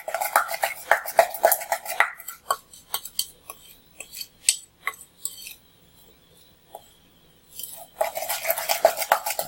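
A honey mixture for coconut biscuits being stirred in a bowl, rapid scraping and clinking of a utensil against the bowl in bursts, with a quieter pause in the middle before vigorous mixing resumes, close and without talking.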